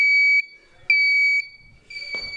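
A smoke alarm sounds nearby, loud piercing electronic tones in repeated half-second bursts with short gaps between them, and faint background noise in the pauses.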